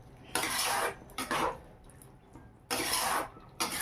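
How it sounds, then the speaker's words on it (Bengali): A spoon scrapes and clinks against a pan while doomur is stirred with a little added water: several separate metallic scraping bursts with quieter pauses between them, close by, with no talking. "একটু নেড়ে চেড়ে নিলাম।"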